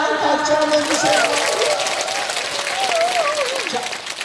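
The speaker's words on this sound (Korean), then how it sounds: "박수 한번 주세요." Steady applause from an audience fills the space while a voice sings a wavering melody over it, the clapping gradually thinning toward the end.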